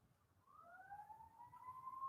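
Rising wail of an ambulance siren passing close by an ambulance station, sweeping steadily upward and growing louder over a low background rumble, with no talking.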